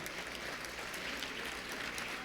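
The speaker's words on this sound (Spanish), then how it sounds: "al que recibimos con un aplauso para esta actividad" An audience at an institutional forum applauds to welcome Uruguay's Minister of Labour and Social Security, a dense, even burst of clapping heard at a moderate distance.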